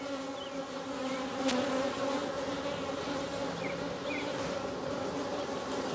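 Several honeybee drones buzz close by during a hive inspection, a steady loud droning hum with no voices.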